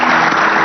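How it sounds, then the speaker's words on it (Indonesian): Brief burst of studio audience applause for the guests on an Indonesian talk show, a dense, even clatter of clapping that fills the moment without any voices. "Saya minta tepuk tangannya untuk tamu-tamu saya luar biasa."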